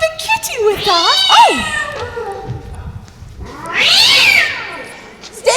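A cat meows loudly and repeatedly on stage during a high school play, with a long wavering caterwaul later on. Actors speak around the cries.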